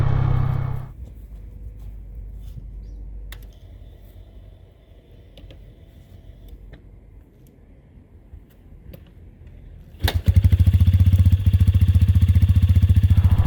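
A motorcycle with a kick starter sits mostly quiet with faint clicks and mechanical rattles, then its engine suddenly fires up and settles into a loud, close, steady idle.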